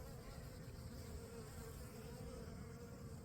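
Honeybees fly in and out at a hive entrance, carrying pollen, making a continuous close buzzing drone with no voices, on the Mediterranean coast in the morning.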